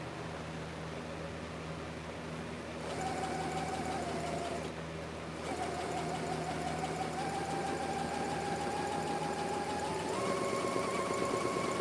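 A sewing machine with loose bobbin tension stitches in a steady mechanical whir that holds for several seconds, stops briefly, then resumes with a rising pitch.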